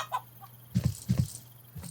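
In the video game Estate Agent Simulator, a chicken gives short clucks in two quick double bursts, close and fairly soft, with quiet gaps around them.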